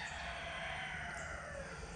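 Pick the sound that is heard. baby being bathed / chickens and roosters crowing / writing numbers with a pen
chickens and roosters crowing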